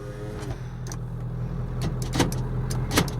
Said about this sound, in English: power windows work, power locks